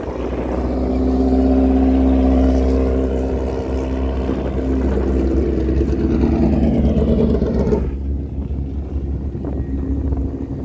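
A drag racing car makes a run at Perth Motorplex, failing to shift gears and lacking boost off the start. A loud, steady engine roar mixed with wind rush holds for about eight seconds, then drops away to a quieter rumble.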